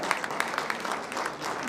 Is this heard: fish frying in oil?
no